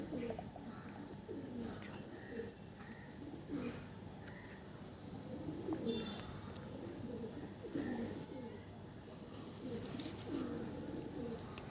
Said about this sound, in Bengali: এটা একটা মাদি পায়রা বন্ধুরা